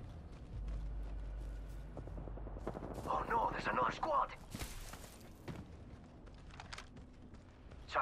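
Gunfire in the Apex Legends video game: rapid bursts of shots crackle loudly in the middle of the clip over steady game noise, with voices speaking around the firing.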